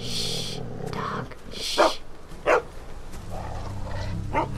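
A dog in The Walking Dead video game lets out several sharp barks, spaced a second or so apart, fairly close and loud, while low game ambience and brief voices sit underneath.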